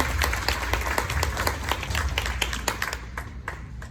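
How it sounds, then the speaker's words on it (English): An audience at a society induction gives a round of applause, a dense, steady patter of many hands clapping nearby, which thins toward the end. "So give yourselves a round of applause too."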